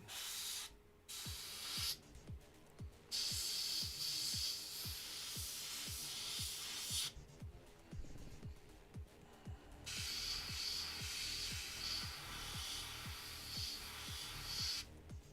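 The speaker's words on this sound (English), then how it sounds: "I like this airbrush though, it gets in tight." An airbrush sprays paint onto a Ma.K / SF3D Hornisse model kit. Close, steady hissing comes in several long bursts separated by short pauses, over a constant low rhythmic ticking from the compressor.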